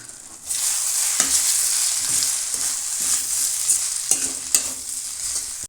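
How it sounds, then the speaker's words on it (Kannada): Flattened rice (avalakki) with tomato and lemon juice being stirred in a hot pan, a steady close sizzle broken by repeated scraping strokes of a spoon against the metal. "ಇವಾಗ ಚೆನ್ನಾಗಿ ಮಿಕ್ಸ್ ಮಾಡೋಣ"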